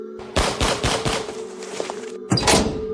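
Gunshots in a horror narration: a burst of several sharp, loud shots in quick succession, followed after a pause by one more heavy blast, all set over a steady low hum.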